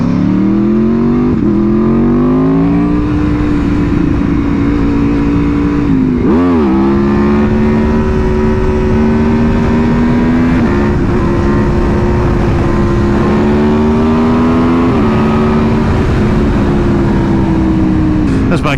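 An Aprilia Tuono motorcycle engine roars loud and close during wheelies, a sustained drone whose revs climb and sag, with one abrupt dip midway and wind rush throughout.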